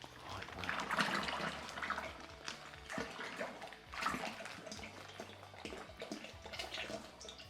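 Tap water poured into a wine kit container to rinse the juice clinging to its sides, a continuous gurgling, sloshing flow with irregular surges, moderately close.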